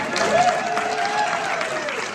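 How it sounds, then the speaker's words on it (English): An audience at a tribute event for Gilda Jacobs claps and cheers, a steady crowd wash with a few shouts rising above, while a voice carries faintly through it. "If you came up from the district with Gilda today, give a cheer or a shout out."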